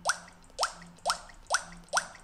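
Five short, wet-sounding electronic drum hits from a ROLI Noise app kit in a steady rhythm, each with a quick upward pitch blip like a synthetic drop, fairly quiet.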